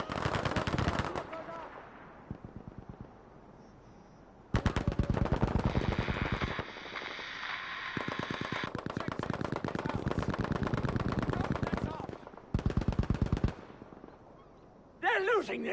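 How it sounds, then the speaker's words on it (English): Multiplayer shooter match between two teams, with rapid machine-gun bursts trading back and forth in long, loud volleys separated by short pauses, and a commentator's voice running under parts of the firefight. "And a lot of exchange of gunfire."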